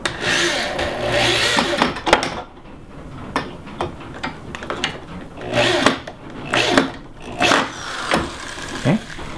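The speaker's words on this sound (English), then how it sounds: "Now I'm just going to take a screw and put it into each of the holes that we have pre-drilled" A power drill drives screws into pre-drilled wood while a dog crate is assembled, in short repeated whirring bursts separated by pauses and light knocks of handling, close by.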